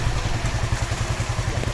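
A motorcycle rides along a road on a short route toward a waterfall in Rajabasa, Lampung, its engine giving a steady, low, pulsing drone close by, with wind rushing over it and no talking.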